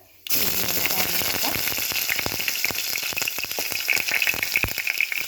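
Mustard seeds splutter in hot oil after a brief quiet start, a dense crackling sizzle peppered with many small sharp pops, steady and close throughout.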